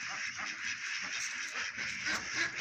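Many ducks quack in a dense, continuous chorus on a duck farm, loud and close throughout with overlapping calls and no clear gaps.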